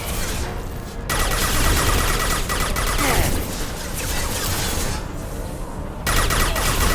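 Bursts of gunfire from the video game Mass Effect 2, loud and dense, cutting out briefly a couple of times before resuming, with a few crashing impacts mixed in.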